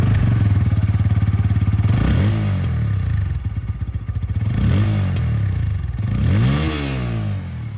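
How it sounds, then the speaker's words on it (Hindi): Bajaj Pulsar P150 motorcycle with underbelly exhaust revved up close and loud, steady idle burbling between three rising throttle blips that climb and fall back. "तो दोस्तों यहां पर आप लोगों ने आवाज सुन ली है P150 की"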